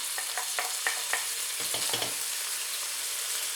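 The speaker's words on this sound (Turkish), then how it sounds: "Şöyle salçamı da kavuruyorum." Steady sizzling hiss of tomato paste and chopped peppers frying in a pan, with a few soft scraping stirs near the start.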